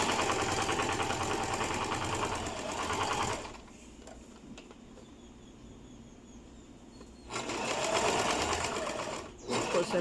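A sewing machine stitches fabric for a fan-panel skirt with a fast, steady mechanical whir, running loud in two long bursts separated by a quieter pause with faint handling sounds.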